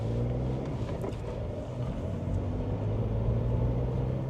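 A learner driver's car pulls away from the kerb during a driving test in Reading, a steady low engine rumble rising gently as it moves off, close and continuous with no talk.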